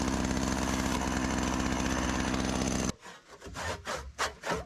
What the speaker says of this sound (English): Cleaning up the corners of the notches a little bit with the handsaw.